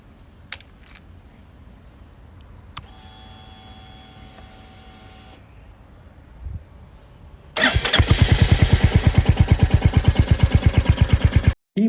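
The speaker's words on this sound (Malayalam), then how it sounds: "നമുക്ക് വണ്ടി ഒന്ന് സ്റ്റാർട്ട് ചെയ്ത് നോക്കാം." Royal Enfield Hunter 350 motorcycle, a key clicks and a brief whir comes from the electric starter, then the single-cylinder engine catches and settles into a loud, close, rapid thumping idle.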